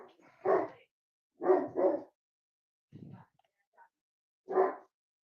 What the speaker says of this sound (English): So while the dogs were barking